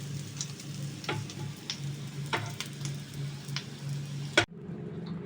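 Lote fish chops frying in a pan, with a steady close sizzle and occasional sharp clicks of the utensil, ending with an abrupt clatter and then a quieter sizzle.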